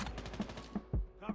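Gunfire in Call of Duty Mobile, a handful of quick shots spaced across a second or so, moderately faint with a low thump on one shot.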